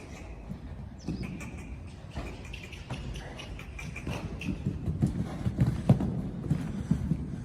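Hooves of a young horse being backed thud on the ground in a loose, uneven cantering rhythm, moderately near. Faint background sounds are present throughout.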